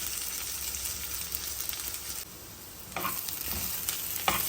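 Onions and urad dal sizzling in hot oil in a pan while being stirred, a steady, close frying hiss with a few scraping stirs near the end.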